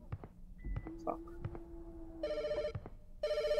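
A telephone rings inside a store in a horror video game, two bursts of electronic bell trilling set against footsteps and a low hum, with someone talking and reacting under the first ring.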